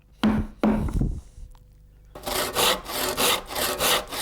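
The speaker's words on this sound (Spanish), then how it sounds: "Los cortes del serrucho y los golpes del hacha adelantan el desbastado de los aimones." A handsaw and an axe work wood by hand while a traditional cart box is built. Two heavy chopping thuds are followed by a run of rhythmic back-and-forth saw strokes, close and loud, with no one talking.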